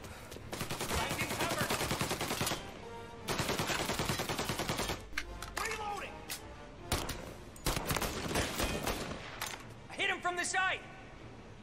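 Rapid bursts of Mafia: Definitive Edition gunfire, loud shotgun blasts in clusters, mixed with talking voices and game sounds.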